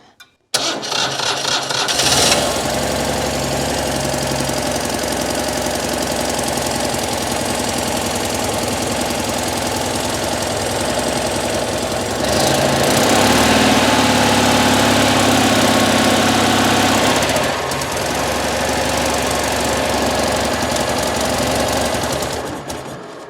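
A Citroën 2CV engine cranks on a 6-volt system in about 3-degree cold, catches after a couple of seconds and runs loudly with a rough, rattling idle that rises in revs midway, then cuts off at the end.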